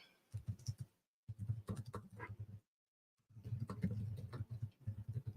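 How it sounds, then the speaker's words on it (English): A super clicky laptop keyboard is tapped in quick bursts of close, crisp key clicks, separated by short silent pauses, faint and alone without talking. "I gotta get one of those keyboards that's not so loud because my laptop is like super clicky"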